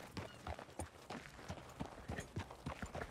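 Horse hooves clip-clop in the video game Red Dead Redemption 2, a steady quiet rhythm of hoofbeats at walking pace, faint and alone without speech.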